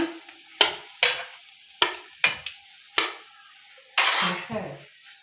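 Sausage pieces stirred in a hot frying pan, with a spatula scraping and clinking against the metal in a series of sharp strokes over a steady background sizzle, ending in a longer burst of frying.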